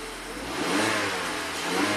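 Mazda CX-5 engine, with a P0012 stuck-retarded electric VVT camshaft fault, cranking and catching, then revving up loudly before settling into a steady run, close and without talk.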